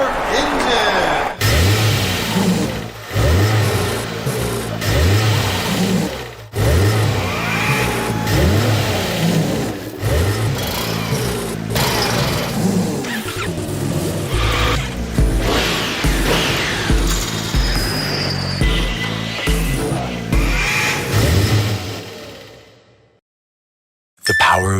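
A car engine in a Honda racing simulator game revs and roars loudly and almost continuously, rising and falling with gear changes, before cutting off abruptly near the end.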